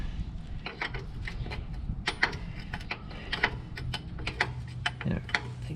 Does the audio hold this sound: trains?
no